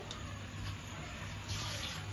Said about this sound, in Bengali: এইভাবে উপর দিয়ে পানিটা দিয়ে দিলাম